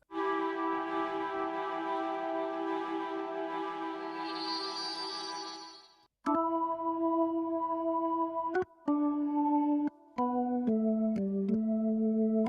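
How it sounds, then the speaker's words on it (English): Classic organ with a retro character sustains a rich held chord, then shifts into shorter detached chords with small gaps between them, clear and moderately loud with no voices. "Just a classic organ sound."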